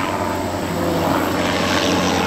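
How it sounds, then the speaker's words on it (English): A crop duster airplane passes overhead with a loud, steady propeller engine drone that fills the whole short stretch, with no talk. "that looks like he's a crop duster"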